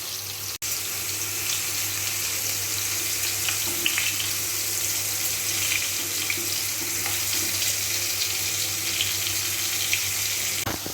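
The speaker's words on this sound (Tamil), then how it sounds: "இப்போ இது 2 பக்கமும் திருப்பி விட்டு நம்ம ஃப்ரை பண்ணிக்கணும்" Stuffed round gourd (tinda) frying in oil, turned over on both sides, giving a steady, even sizzle that holds throughout with small crackles.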